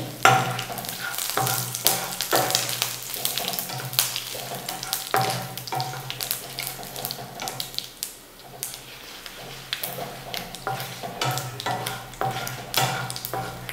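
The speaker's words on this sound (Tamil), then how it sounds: "இப்போ கருவேப்பிலை போட்டுருங்க. கொஞ்சம் லேசாக சாட் பண்ணுங்கள்." Curry leaves sautéing in hot oil, crackling and sizzling steadily up close, with occasional stirring scrapes in the pan and no talking over it.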